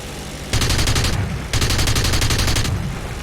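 Aircraft machine-gun fire in War Thunder, heard as two rapid sustained bursts, each roughly a second long, loud and close over a low engine drone.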